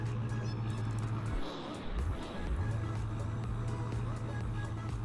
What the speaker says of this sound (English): You guys can hear that idle sound there. It's extremely deep. It's extremely burly,